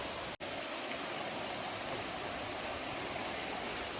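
A river in a Konkan coconut and areca nut plantation flows steadily, a dense, continuous rushing wash of water with no voices, with one brief dropout near the start.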